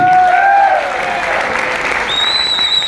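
Loud crowd applause at a direct-selling motivational event in India, a dense roar of clapping with a sustained tonal sound gliding over it.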